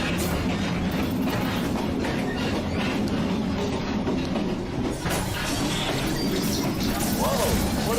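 Steady, loud rumble of a disco train in a video game, rolling with clickety-clack rail noise and metallic rattles throughout, with people talking over it.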